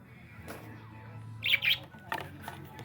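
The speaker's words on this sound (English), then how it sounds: "they're pink. There's our parrots." Pink lovebird parrots call, two sharp high chirps close together and a few fainter squawks, over a low background hum with light movement noise.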